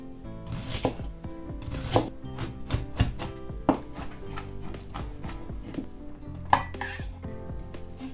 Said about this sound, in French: Passons à l'oignon. Donc pareil, je le quadrille.